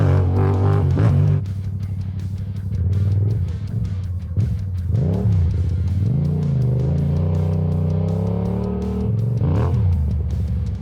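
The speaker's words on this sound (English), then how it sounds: "There's a lot of traffic out here this time of night." Road traffic passing at night, with loud engines rumbling and revving steadily close by as vehicles rush past one after another, the engine tone rising and falling.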